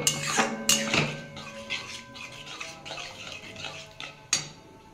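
A spatula clatters and scrapes against a pan as okra in yogurt is stirred and sautéed, with intermittent metallic knocks and soft scraping between them and no voices.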